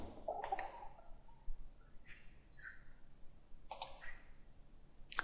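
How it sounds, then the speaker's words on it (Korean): Sharp, faint computer mouse clicks come in small clusters, a double click near the start and more later, with the Ctrl key held to select parts, set against a quiet room. "컨트롤 키를 눌러서 세 개를 선택했습니다"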